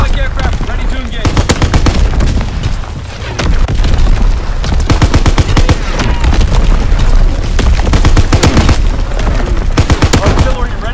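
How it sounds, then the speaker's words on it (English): Artillery barrage in a video game, loud continuous rapid booms and crackling blasts overlapping in dense volleys, with a brief lull before firing resumes at full intensity. "Firing for full effect."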